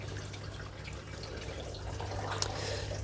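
Water from a fish pond pump runs and trickles steadily near a workbench drain, a soft continuous flowing and dripping with a low hum beneath it.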